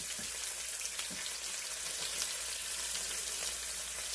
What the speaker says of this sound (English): Now I'm going to go ahead and start putting my asparagus in